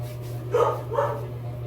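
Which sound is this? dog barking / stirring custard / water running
dog barking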